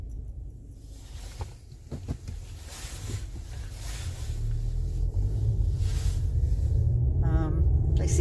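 Inside a moving car, a low road rumble grows louder and steadier in the second half, with occasional handling knocks and rustles close to the microphone.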